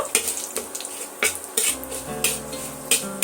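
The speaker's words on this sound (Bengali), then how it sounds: "আর নিয়েছি হাফ চা চামচ কাঁচা জিরে আর এক চিমটে কালো জিরে এটাও আমি তেলের মধ্যে অ্যাড করে দেব দিয়ে হালকা একটু ভাজা করে নেব" Cumin and nigella seeds sizzling briskly in hot oil in a pan, a steady close crackle broken by a few sharp stirring scrapes, with no talking.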